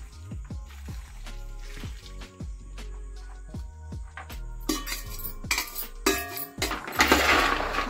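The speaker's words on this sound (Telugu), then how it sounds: "బెల్లం కలుపుకోవాలి బాగా" Jaggery syrup for bellam gavvalu, a sweet snack, is stirred in a metal pot, giving repeated close scraping clinks at a steady rhythm that grow louder and busier toward the end, with no talking.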